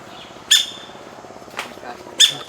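Birds in village trees give three short, sharp chirping calls at intervals, close and fairly loud, over faint background noise.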